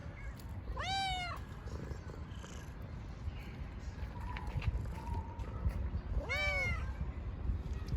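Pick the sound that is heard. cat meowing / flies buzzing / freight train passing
cat meowing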